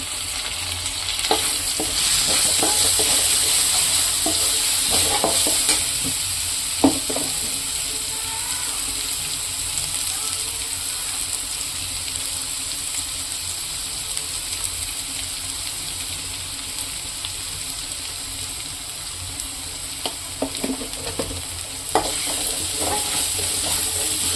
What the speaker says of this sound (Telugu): అలాగే కొంచెం కరివేపాకు వేస్తున్నాను.